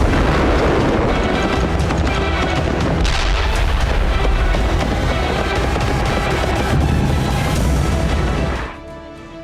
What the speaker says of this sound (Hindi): ये पुराने मोर्टार और तोपें पहली बार जंग के मैदान में अपनी ताकत दिखा रही हैं।